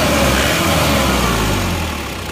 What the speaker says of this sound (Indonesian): Nah ini mesinnya rata ya, rata, dan saya rasa soalnya juga halus.